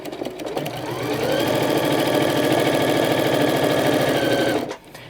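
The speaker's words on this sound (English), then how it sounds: "I like needle down, and I'll start sewing" A sewing machine with a walking foot stitches minky fabric, running in a steady rapid hum of needle strokes close by, briefly starting up and then stopping near the end.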